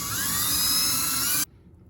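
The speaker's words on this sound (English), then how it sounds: "use that little special drill bit to drill all our fret dots" A small drill bit bores fret dot holes into a guitar fretboard with a steady, high-pitched whine lasting about a second and a half, then cuts off abruptly to near silence.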